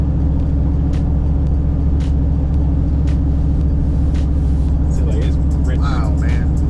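A Chevrolet C10 longbed truck with an aftermarket exhaust cruises down the road, its steady low engine and road rumble filling the cab continuously, with brief clicks and a few faint chirps near the end.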